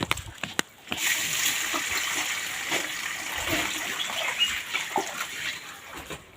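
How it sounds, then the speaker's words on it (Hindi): Buffaloes being watered at a small village water tank: a few sharp knocks, then a steady, close wash of splashing and running water that continues to the end. "अभी यहाँ पर भैंसों को पानी पिलाया जा रहा है"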